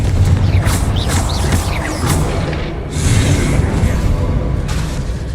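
The Confringo blasting spell in Hogwarts Legacy goes off as a series of loud fiery bursts and whooshes, rolling booms close together over a dense, busy game soundscape.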